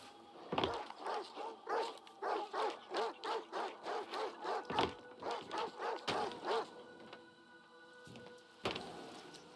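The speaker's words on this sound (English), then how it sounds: "Where are the dogs?" Dogs in S.T.A.L.K.E.R. 2: Heart of Chornobyl letting out a long rhythmic run of barks and yips, about a dozen evenly spaced calls with a few sharper bursts, fairly faint and distant.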